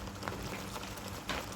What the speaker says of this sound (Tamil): இப்போ இது நல்லா கொதிக்குது